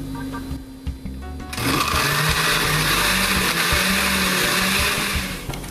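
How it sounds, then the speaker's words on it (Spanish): A blender kicks on after a short pause and grinds chiles loudly and steadily, its motor whirring at a constant pitch for several seconds. "ya tenemos aquí nuestros chiles en la licuadora. Lo vamos a ir moliendo por partes"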